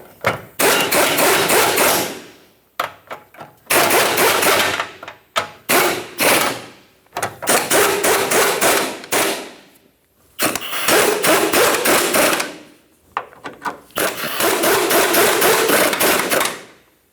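Mounting nuts are snugged up on the rear lower control arm of a 2008–2012 Jeep Liberty with a power tool. Loud, close bursts of rapid rattling impact hits are separated by short pauses, with no talking.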